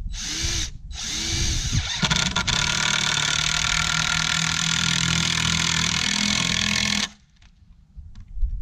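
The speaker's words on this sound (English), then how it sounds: "I'm just going to take this board and right along this edge, run in some decking screws." A power driver runs decking screws into a log board during log home rot repair, a loud continuous whirring drive of several seconds after a couple of short bursts, then stopping abruptly.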